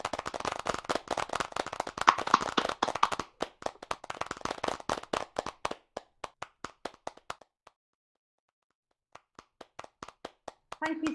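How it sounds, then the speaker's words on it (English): Online awards evening audience applauding: dense clapping that thins into scattered, separate claps, goes quiet, then a few last claps near the end. "put your hands together, or at least your virtual hands together one more time for all of our inspiring finalists"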